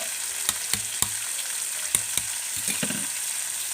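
Garlic paste frying in a pan for jackfruit curry, a loud continuous sizzle with several sharp spatula clicks and scrapes on the pan as it is stirred.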